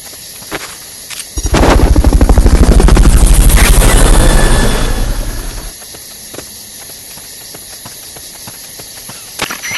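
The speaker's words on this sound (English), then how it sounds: "Fulton recovering a helicopter is complete." A helicopter in MGS Peace Walker HD swells in with a loud, beating roar. It holds for several seconds, then fades away into quiet background sounds.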